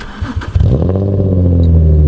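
A Nissan 350Z fitted with sports catalytic converters starts up: a brief cranking whirr, then the engine catches and settles into a loud, steady, deep idle close by, with no talking.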